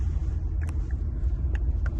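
Low, steady rumble of a truck hauling logs up a mostly gravel road, heard from inside the cab, with a few faint clicks and rattles over the constant engine drone.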